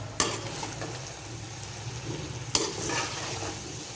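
Macaroni sauce with a spoonful of vinegar mixed in a pan, two sharp spoon knocks against the metal followed by wet stirring and a low sizzle, heard close with no voices.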